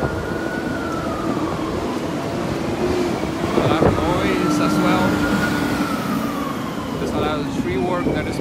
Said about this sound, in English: and as always, many ambulances